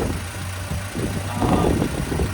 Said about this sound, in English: It's quiet. It's idling quieter under the hood than my 3rd gen.